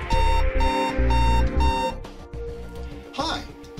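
A smart light switch's built-in alarm sounds as a loud repeating beep pattern, four even pulses in a steady rhythm. It then stops and gives way to a quieter background.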